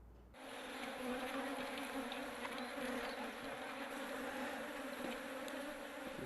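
Honey bees buzz at an organic apiary in Santa Catarina's northern plateau, a continuous dense droning hum from many insects close by, steady throughout.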